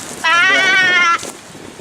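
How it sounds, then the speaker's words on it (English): A single loud, close sheep bleat near a wild camp in the Lake District, one sustained wavering call of about a second that cuts off abruptly against a quiet outdoor background. "Got a sheep."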